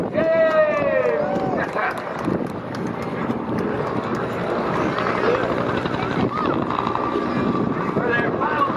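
A Vietnam-era Huey helicopter flying at the Wings Over Houston 2017 airshow, a continuous loud rotor roar with wind buffeting, under a commentator talking over a crowd.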